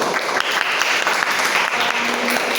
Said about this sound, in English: Please give round of applause for everyone.